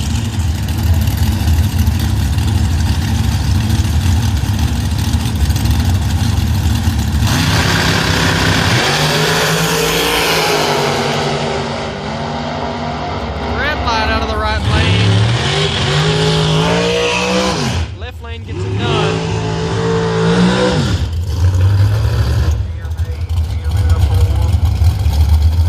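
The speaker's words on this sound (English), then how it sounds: "Vanover coming up in the dragster." Drag racing cars and a nitrous dragster roar at London Dragway, loud and close, with engines revving, screaming up to high pitch and cutting off sharply, then rumbling again.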